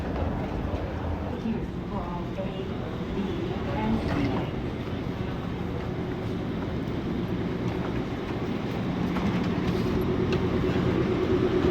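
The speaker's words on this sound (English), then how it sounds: "you'll head downstairs once again to catch the plane train" Steady rumbling hum of an airport people-mover train at Denver airport heard from inside, with rail noise and faint voices murmuring over the constant drone.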